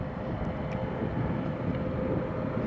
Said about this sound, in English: Air France Embraer 190. It's about to come in from Paris, Charles de Gaulle.